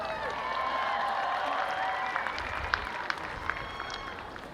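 A large university commencement audience applauds and cheers for a graduate, a broad continuous wash of clapping with scattered louder claps, heard from within the hall at moderate level.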